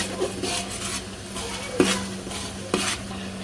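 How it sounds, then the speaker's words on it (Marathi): Green chillies sauté in hot oil for pav bhaji, a steady sizzle under a spoon stirring and scraping the pan, with a few louder metallic knocks and no talking. "हिरवी मिरची, मिरचीला पण छान आपण तेलामध्ये परतून घेऊया."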